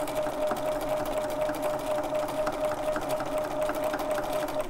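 A sewing machine stitches steadily along a quilt seam, stitching in the ditch on a quilt-as-you-go block, with a constant close motor hum and rapid needle chatter and no talking.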